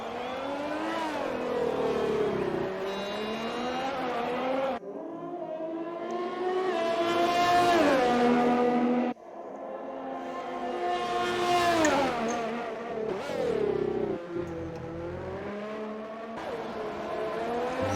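Ferrari Formula 1 race car in the F1 video game at Monaco, its high-pitched engine screaming up through the gears with repeated rising whines and brief drops on shifts and braking, loud and continuous.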